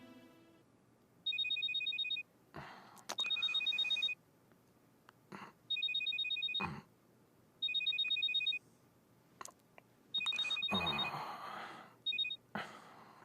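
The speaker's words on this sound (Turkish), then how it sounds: "aç şu telefonu" A mobile phone rings with a repeating electronic ringtone in regular bursts, close and clear, with short gaps between rings and some rustling and breathing noises in between; no speech.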